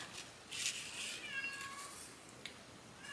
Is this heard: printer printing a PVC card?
no